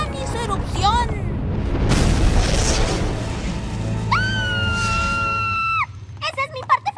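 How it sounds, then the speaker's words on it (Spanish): A cartoon volcano erupts with a broad rumbling blast that swells and lasts a couple of seconds. A sustained whistle-like tone follows, then voices. "un día crucial, el volcán hizo erupción"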